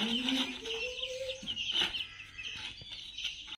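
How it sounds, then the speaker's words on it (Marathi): Farm chickens clucking nearby in a village farmyard, with several short overlapping clucks and calls against quiet outdoor background. "तुमची कोंबडी दाखवू."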